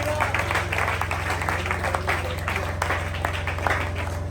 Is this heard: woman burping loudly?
no